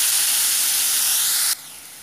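Chopped onions hitting hot oil in a pan for paneer and capsicum bhurji, a loud hissing sizzle that drops sharply to a quieter steady fry partway through.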